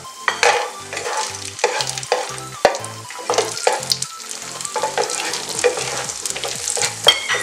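Raisins frying in ghee in a pan for semiya payasam, a steady crackling sizzle with repeated scraping stirs of a spoon against the pan, close and alone.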